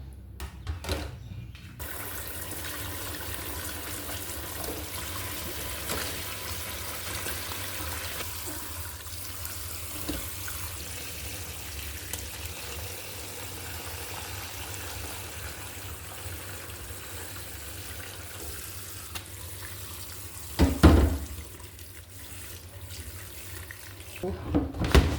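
Tap water runs steadily into a sink while bitter leaf is rinsed after cooking with bicarbonate of soda, with a constant hiss and a few louder splashes near the end.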